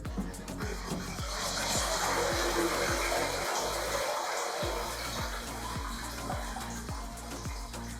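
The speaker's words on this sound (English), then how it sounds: "We want to let the water drain out of the internals of the vapor." Water draining out of the internals of a Vapor underwater scooter just lifted from a cleaning bath, a steady loud rushing splash with a regular rhythmic thumping underneath, briefly dipping midway, no one speaking.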